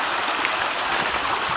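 Creek water flowing in the rain, a steady broad rushing and splashing close by, continuous and fairly loud, with no voices.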